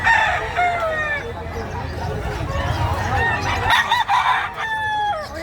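Roosters crowing at a chicken market, several long cock-a-doodle-doo calls, one after another, fairly near, with hens clucking and a crowd murmuring underneath.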